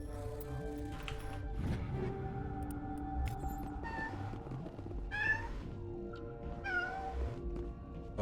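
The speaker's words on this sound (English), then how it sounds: "Oh, my cat's now a part of this recording." A pet cat named Freya meows several times up close, drawn-out wavering calls spaced a second or two apart, with low background noise and no talking.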